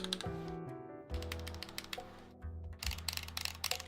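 Keystrokes on a GMMK Pro mechanical keyboard, a quick run of clicky, slightly hollow-sounding presses in two bursts, close and clear over a faint steady background tone.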